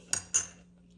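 Two quick metallic clinks of a spoon against a crockpot as it scoops beans, corn and sauce from chicken chili, sharp and close, followed by quiet.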